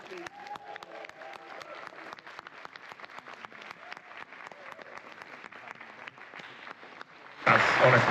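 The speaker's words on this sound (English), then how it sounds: "Can we get an enormous round of applause," Scattered clapping builds steadily, then a crowd bursts into loud, full applause near the end.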